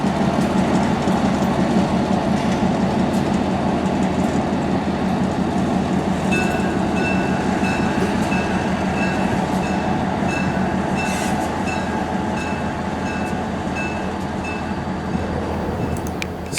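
A 1912 vintage locomotive backs into a railway siding on a Central Florida line, with a loud continuous rumble of engine and rolling wagons close by, plus faint metallic squeals and clanks over it.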